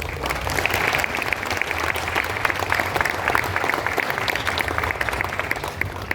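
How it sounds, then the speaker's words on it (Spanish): Church congregation in Montelibano, Colombia applauding during a sermon, a dense steady wash of many clapping hands that stays loud and even for the whole stretch, with no voices above it. "Aplaudo al Señor por eso."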